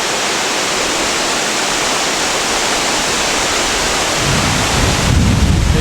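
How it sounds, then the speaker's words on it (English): A gushing waterfall along the Gibb River Road roars as a steady, loud wall of rushing water, unbroken throughout and swelling slightly deeper toward the end. "if we just continue walking up here, you can see the waterfall"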